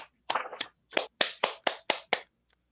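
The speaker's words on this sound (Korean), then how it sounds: "박수" A short burst of hand clapping at a business presentation, several sharp claps in quick succession from a small group welcoming a speaker, close and fairly loud, then fading out.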